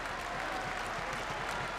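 Steady applause from a large wrestling arena crowd cheering the Undertaker during his WrestleMania 21 match with Randy Orton, a dense continuous roar of clapping at moderate distance.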